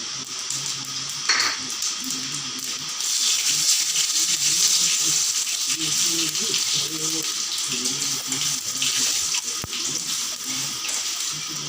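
Dry red chili, bay leaf and whole cumin sizzle in hot mustard oil, a continuous frying hiss running under a voice talking over it.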